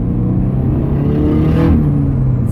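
A turbocharged Subaru BRZ/Toyota GT86 with a Garrett G25-660 turbo kit accelerates on the street, a loud, close, steady engine drone with a faint turbo whine above it.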